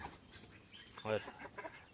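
A chicken gives a single short, clear cluck midway, fairly close, among faint softer farmyard sounds and quiet background talk.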